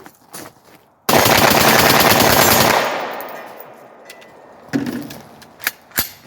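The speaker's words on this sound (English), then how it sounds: "let's do a little celebration shoot off here" A rifle fitted with a binary trigger fires a long, rapid, loud burst of celebratory shots lasting about two seconds, followed by ringing echo and a few scattered clatters.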